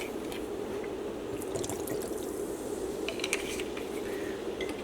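Sherry poured into a pan of water over a low flame on a home stove while making a demi-glace for sirloin steak, a steady soft liquid trickle with faint drips and clinks throughout.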